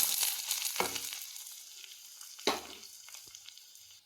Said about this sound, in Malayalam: ചക്കക്കുരു ഇളക്കി കൊടുക്കാം ചെറുതായിട്ട്